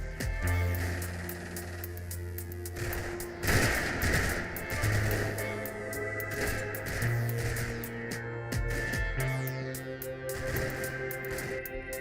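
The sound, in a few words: machine gun fire from the video game Combat Mission Fortress Italy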